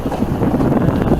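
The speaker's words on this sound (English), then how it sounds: "there's a bit of wind there" Wind gusts across a sailing boat heading from Ham to Sandbanks, a steady, close, rumbling buffet of noise on the microphone with no voices.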